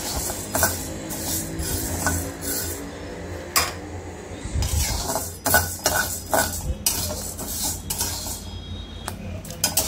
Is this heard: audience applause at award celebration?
no